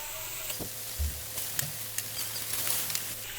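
Bele fish frying in a thick cooked spice paste with chili powder sizzles steadily, with a few soft stirring bumps and pops over the constant close hiss.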